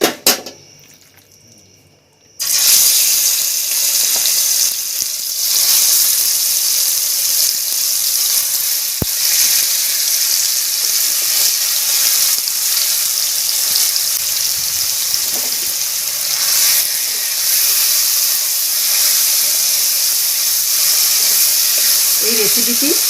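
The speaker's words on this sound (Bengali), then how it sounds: "কড়াইতে মাংসটা আমি দিয়ে দিচ্ছি।" Chicken meat hits hot oil in a wok over a gas flame, bursting into a loud, continuous sizzling hiss after a quiet start, with occasional clinks of utensils against the pan.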